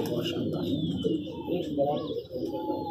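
A female high-flyer pigeon coos softly and steadily throughout, close by, with faint chirps over it and someone talking under the cooing.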